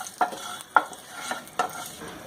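Whole cumin, bay leaf and dried chilli fry in hot oil for a tempering, with a soft sizzle under a few distinct stirring scrapes against the pan, close and fairly quiet.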